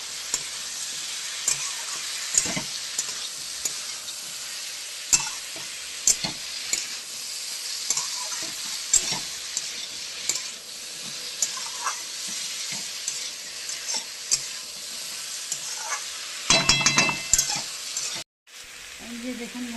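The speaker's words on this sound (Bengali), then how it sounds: "আমি এঁচোড়টাকে এবার তেলের মধ্যে একটু ছেড়ে দিচ্ছি" Raw jackfruit sizzles and fries in hot oil while being stirred, a steady crackling hiss with repeated scraping knocks of the spoon, close up; a brief break near the end before the sizzle resumes faintly.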